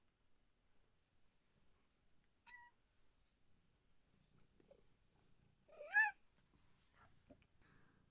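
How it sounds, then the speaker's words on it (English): Pet cat Garnet gives a brief soft chirp, then a single faint meow in an otherwise quiet room, with faint low rustling between the calls. "my cat Garnet has had her dinner, but now she demands my attention"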